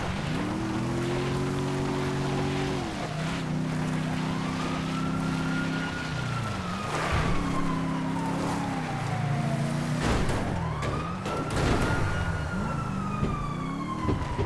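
Police car siren from the Grand Theft Auto V video game, wailing in long rising and falling sweeps over a steady car engine drone, loud and close throughout with no talking.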